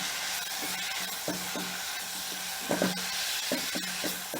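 Mint (pudina) leaves sautéing over a raised flame, a steady bright sizzle with periodic knocking and scraping stirs against the pan, close and continuous.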